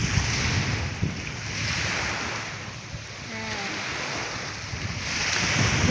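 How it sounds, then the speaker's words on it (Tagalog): Sea waves and gusting wind at a seaside in Iligan City fill the scene with a continuous broad wash of surf and wind noise buffeting the microphone, with faint voices briefly underneath. "Nagpapahangin sa tabing dagat."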